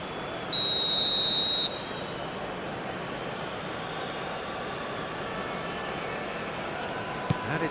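A referee's whistle in the football video game eFootball PES, a single shrill blast lasting about a second over a steady stadium crowd hum that carries on alone afterward.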